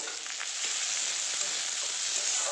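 Onions and tomatoes sizzle in a pan while a ridge gourd and potato curry is cooked, giving a close, steady crackling hiss with faint stirring.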